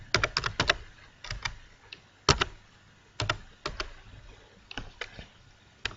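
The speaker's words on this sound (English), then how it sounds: "It opens a Gmail window, and I'm gonna be typing my email." Fingers typing an email on a computer keyboard: close, crisp key clicks arriving in quick irregular bursts separated by short pauses.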